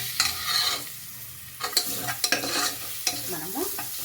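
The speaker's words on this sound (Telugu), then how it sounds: "పచ్చివాసన పోయేంత వరకు మనం ఫ్రై చేసుకోవాలి." Andhra-style tomato rice frying in a pan while a spoon stirs and scrapes in several distinct strokes over a steady close sizzle, with no talking.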